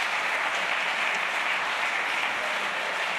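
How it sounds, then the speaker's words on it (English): A large audience applauds steadily and loudly after a science lecture on snakebite, a dense unbroken wash of clapping filling the whole stretch. "Give a huge round of applause."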